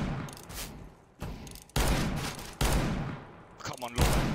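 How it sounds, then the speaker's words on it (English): Rapid bursts of automatic P90 gunfire in a Counter-Strike match: several loud, dense volleys separated by short gaps, close and dominant over faint background game noise. "It's time for P90."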